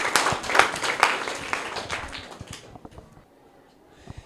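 A small classroom crowd claps in a scattered burst that fades away over a few seconds, leaving near silence with a couple of stray claps.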